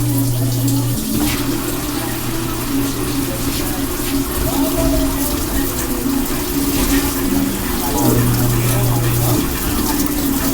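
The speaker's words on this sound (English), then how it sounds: "We are filling up now for the rinse cycle." A Samsung WA45T3200AW top-load washing machine fills with water for its rinse cycle, giving a steady rushing flow with a low hum and tonal drone underneath, close and fairly loud throughout.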